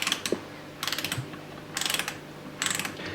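Rapid ratchet clicks come in four short bursts with pauses between, close and crisp, as bolts on a rotary 13B engine are tightened in a quiet workshop.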